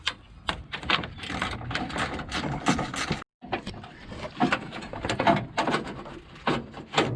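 A 10mm engine mount bolt on a 1981 Ford XD with a 4.1 engine being undone in a workshop, a close, busy run of rapid ratchet clicks and metallic mechanism noise, with a brief pause partway through.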